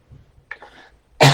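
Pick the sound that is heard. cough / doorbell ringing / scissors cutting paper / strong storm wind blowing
cough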